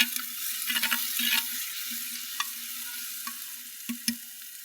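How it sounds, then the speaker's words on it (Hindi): Mutton frying with ginger-garlic paste, a moderate, steady sizzle with a low hum and intermittent spoon scrapes and taps against the pot. "इन सारी चीज़ों को 3 से 4 मिनट के लिए अच्छे से भून लेंगे।"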